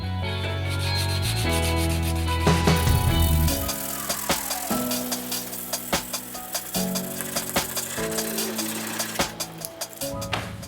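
Sandpaper of 320 grit rubs over an epoxy patch on a carbon fiber hood for a 1989 Honda CRX, first a long smooth scrape, then a series of rhythmic back-and-forth strokes, close and fairly loud.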